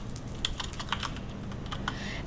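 Rapid keystrokes on a computer keyboard entering a Minecraft command, a quick irregular run of clicky taps heard close and alone, with no talking.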